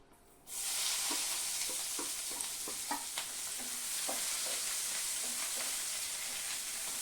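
Chopped onion drops into hot oil seasoned with bay leaf and whole garam masala, bursting into a loud, steady sizzle, with soft scraping taps of stirring scattered through the close hiss.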